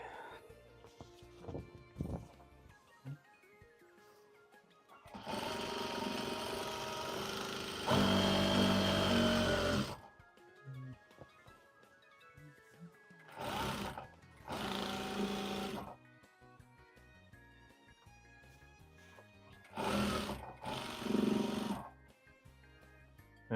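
A sewing machine stitches hanbok fabric for a blazer in bursts of steady, fast mechanical whirring, with one long run and several shorter ones between quieter pauses, heard close up.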